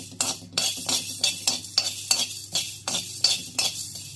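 Fenugreek, coriander and cumin seeds dry-frying in a pan, stirred with a spoon in a steady rhythm of about a dozen scraping strokes, close and moderately loud with a faint crackle beneath.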